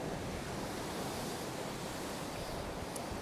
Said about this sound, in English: A couple of big waves now.